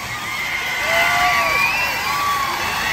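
A large crowd at a Tamil comedy stage show in Jaffna, heard up close as loud whoops, shouts and cheers, with whistles rising and falling over a continuous roar.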